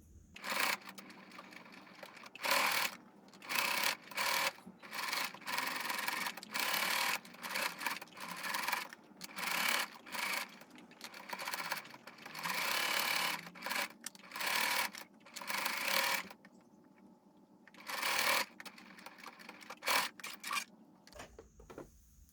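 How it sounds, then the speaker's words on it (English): A sewing machine stitching a hanging kitchen towel whirs in short, stop-and-start bursts, with quiet pauses and light handling noises between runs. "So let's head to our sewing machine now."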